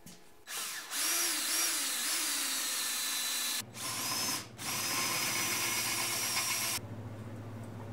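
A power drill whines loudly in several bursts during a rope tow rebuild, with brief pauses between runs and a low motor hum in the background.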